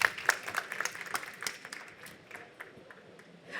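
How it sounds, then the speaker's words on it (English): Moderate audience applause at a hotel industry panel in Lebanon, scattered claps fading over a few seconds, fairly distant and soft. "A round of applause for Mr."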